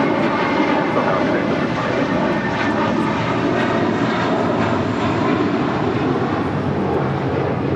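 A jet airliner taking off from runway 25 right at Los Angeles International Airport, a loud continuous engine roar filling the whole stretch without letup.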